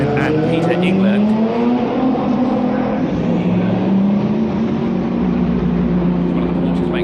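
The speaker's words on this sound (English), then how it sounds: "One of the Porsches makes its way out pit lane, followed by the Bentley Continental GT3." Race cars including a Porsche and a Bentley Continental GT3 pull out of pit lane at Dubai Autodrome, engines droning loudly and steadily with rising and falling pitch throughout, under continuous commentary.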